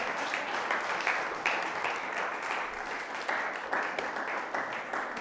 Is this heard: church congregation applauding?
yes